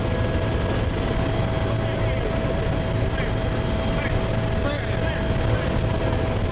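Helicopter flying at treetop level over Tamil territory during the 2004 Indian Ocean tsunami relief, with a loud, steady rotor and engine drone filling the cabin throughout and voices faintly underneath.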